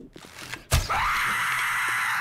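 A screamer zombie in 7 Days to Die lets out a loud, sustained shriek that bursts in after a sharp hit and holds steady to the end, with no talking over it.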